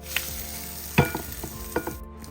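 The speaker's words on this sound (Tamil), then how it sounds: "அழகாக எறா வறக்குது" Prawns frying in a pan with curry leaves and cumin powder, a soft steady sizzle with a few sharp crackles and stirring clinks, close and alone without talk.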